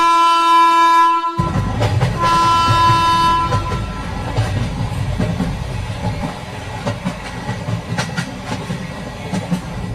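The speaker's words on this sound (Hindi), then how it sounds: "ये लोग बातें कर ही रहे थे कि तभी यहाँ इन लोगों की ट्रेन आ जाती है।" A train pulls into a railway station with a long, loud horn blast, then settles into a heavy rumbling clatter of wheels and wagons close by.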